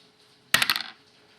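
Dice clatter briefly onto a table during a board wargame of the Siege of Jerusalem, a quick bright rattle of several bouncing hits in a quiet room.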